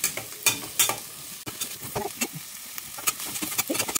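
Ingredients for fish pulusu fry in a pan, close crackling sizzle broken by repeated scraping stirs and sharp bursts, with no voices present.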